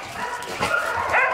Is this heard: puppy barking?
yes